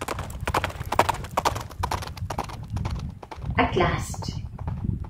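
Horse hooves clop in a quick galloping rhythm as a story sound effect, steady beats running through the whole stretch while a narrator speaks over them, with a brief whinny-like burst near the end.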